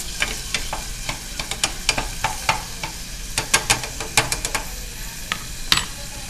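Seasoned white rice stirred and sizzling in hot oil in a pan for Haitian cooking, with a steady frying hiss and repeated sharp scraping clicks of the spoon up close.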